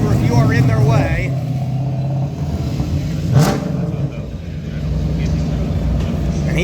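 A prototype race car passes close by in the paddock at Virginia International Raceway. Its engine note rises and swells in a near pass over a steady mechanical hum, and a voice talks through part of it.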